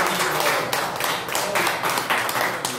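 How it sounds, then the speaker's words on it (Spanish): A short burst of applause from a small group of people at a classroom gathering, with quick overlapping claps at a moderate level and no speech. "Aplausos."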